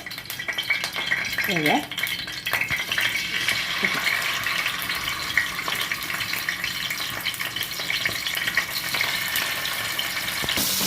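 Masala fish frying in coconut oil on a nonstick tawa over medium heat, a steady close sizzle with occasional clinks, a voice briefly heard over it.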